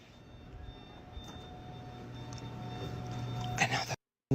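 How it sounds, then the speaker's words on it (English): An alarm sounds as a steady high electronic tone over a muffled, rumbling background, growing slightly louder before cutting off abruptly near the end. "now the alarm's going off."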